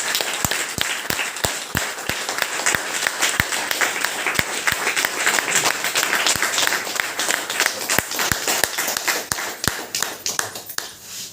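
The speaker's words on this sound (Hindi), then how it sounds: "एक बार बढ़िया वाली ताली, बढ़िया वाली" Audience applause at a gathering, dense steady clapping from a crowd with several sharp, close individual claps popping out above the wash, sustained for the whole stretch and tapering slightly at the end.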